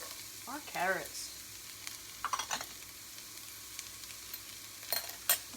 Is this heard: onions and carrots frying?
yes